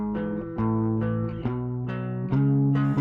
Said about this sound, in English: The chorus effect sound is coming from this guitar here